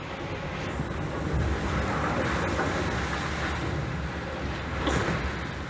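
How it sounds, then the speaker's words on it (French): Strong wind roars and waves crash steadily aboard a racing sailboat at sea during the Vendée Globe, a dense, continuous wash of noise with surges of water, no voices. "Au final, le vent est très fort."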